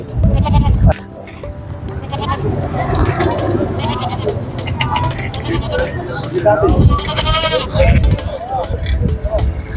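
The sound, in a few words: goats bleating at a goat and cow market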